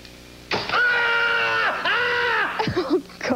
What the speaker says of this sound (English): He's just screaming. That was just fake.